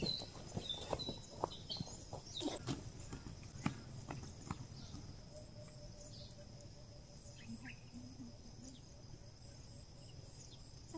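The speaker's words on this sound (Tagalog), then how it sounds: "Ito yung kalabaw natin, no?" A carabao (water buffalo) walks through the Philippine countryside with an uneven series of hoof clops and thuds, heaviest early on. Crickets, insects and occasional birds carry on faintly behind it.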